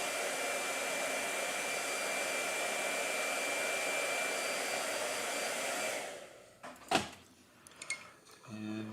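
Blow dryer running on a watercolor painting from a travel journal, a steady loud whirring blast for about six seconds, then cut off, followed by a few clunks and handling sounds.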